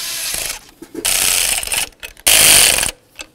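A hand ratchet snugs down the throttle body studs on a Chevy S-10 with quick bursts of pawl clicking, three short near runs separated by pauses, the last one loudest.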